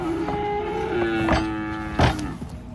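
A cow being unloaded from a truck lets out a loud, close moo with a few short grunting calls and thumps around it, no voices.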